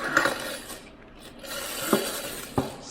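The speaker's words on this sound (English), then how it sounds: "Just clip this retaining clip on here for any future repairs." Small metal and plastic clicks and rattles as a retaining clip snaps onto a Roman tub trim kit, a few sharp ticks against a quiet background, close by.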